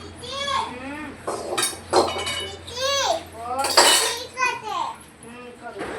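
Dishes washed by hand at night, with scattered clinks and scrapes of pots and utensils rising briefly under a young child's steady chatter close by.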